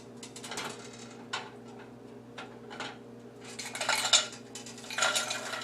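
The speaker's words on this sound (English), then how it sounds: "So now I'm going to saute the broccoli," Frozen broccoli being sauteed in a pan while making a quiche, heard as clinking and scraping of a utensil against the pan in irregular bursts that grow busier toward the end, over a steady low hum, with no talking.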